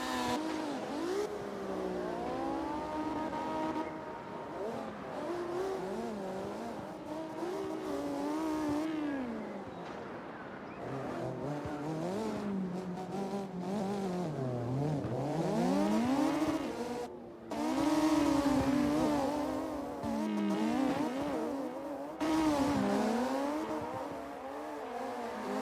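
Cars racing around a drift track, engines revving and whining in long rising and falling sweeps as they chase each other, heard from a distance with tire noise beneath.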